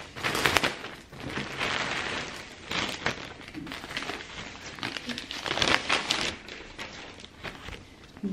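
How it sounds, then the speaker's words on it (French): Plastic packaging around online-ordered clothes crinkles and rustles close by in bursts of irregular crackling as it is torn open and handled, with no talking. "je vais déballer ça avec vous"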